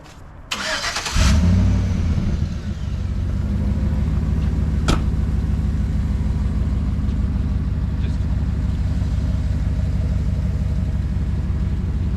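A Chevrolet Tahoe engine cranks briefly, catches with a loud roar, then settles into a steady, rumbling idle that runs close and continuous for the rest of the clip, with a faint voice at one point.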